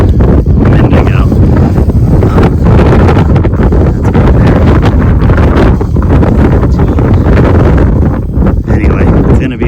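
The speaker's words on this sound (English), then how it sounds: "This is the standard wind, and then we are gusting upwards of, we had some 22 mile an hour gusts a minute ago" Strong gusting wind at an outdoor shooting range during a long-range F Class match, roaring and buffeting loudly against the microphone throughout, with surges and lulls in the gusts.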